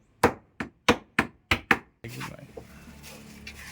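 Hammering nails during a community bridge repair using bathroom wall panels, six sharp, evenly spaced blows close by, followed by a stretch of quieter rustling and faint background noise.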